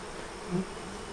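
Bees buzzing on a hive frame beside a couple of dead bees, a soft, low steady drone with one brief swell midway, close by and without talk.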